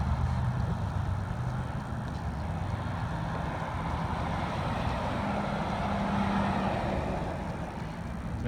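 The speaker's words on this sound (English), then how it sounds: "Now look, a company or a postal truck doing an assignment" A United States Postal Service truck in Muskegon, Michigan, near the county building, drives past with a steady low engine rumble. The sound stays fairly loud and even throughout, and no one speaks.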